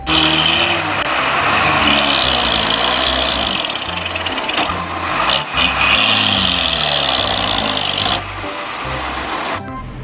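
A toy dump truck plays a loud, close, rattling engine sound with a steady chugging pulse that runs continuously, briefly dips, then continues before stopping, with no talking.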